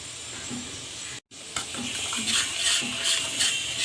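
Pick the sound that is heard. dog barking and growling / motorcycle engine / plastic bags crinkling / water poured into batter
water poured into batter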